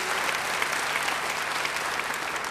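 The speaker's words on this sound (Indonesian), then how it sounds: "Yang percaya beri tepuk tangan yang baik bagi dia." Church congregation applauding together during a sermon, a dense, continuous wash of clapping hands that stays loud and even from start to finish.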